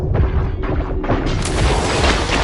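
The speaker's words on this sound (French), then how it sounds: "T'as vu comme une explosion" Explosion in the Killing Floor video game: a loud, dense blast with rumbling low end that swells and sustains across the whole moment, with crackling debris noise and no talk.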